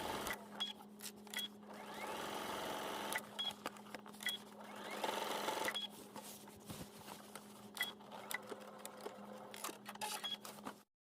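A domestic sewing machine top-stitches the front pocket opening seams of a trench coat. The motor whirs in several bursts at low level, broken by short pauses and small clicks and handling noises. There is no talk.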